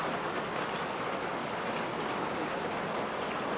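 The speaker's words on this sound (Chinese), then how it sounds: "到处都在漏雨" Heavy rain pouring down and leaking through a roof, a steady dense hiss of water with no breaks, close and even throughout.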